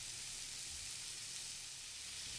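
Bacon-wrapped scallops sizzle steadily in a frying pan, a constant bright hiss with no pauses and no voices.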